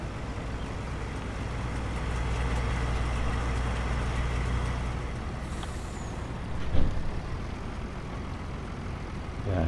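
Truck engine in Farming Simulator 19 rumbling steadily as it slowly pulls away, a low continuous drone with a brief louder bump partway through.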